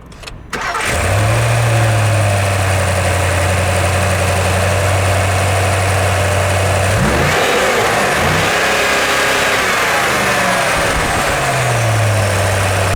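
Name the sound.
Range Rover Sport 4.4 V8 petrol engine revving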